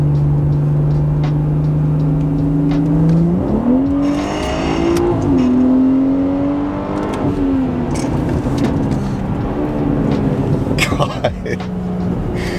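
A BMW E90 engine pulls hard under throttle from inside the car, its steady drone rising through the revs with a clear shift before settling into a cruise, loud and close, with a voice talking over it.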